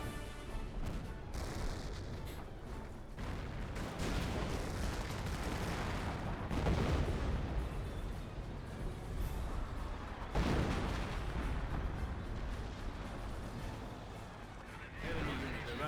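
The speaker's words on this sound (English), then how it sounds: "Sector artillery in this region." Artillery barrage in the Company of Heroes strategy game, repeated heavy booms and blasts rolling over a continuous din of battle, with a commentator talking over the fire.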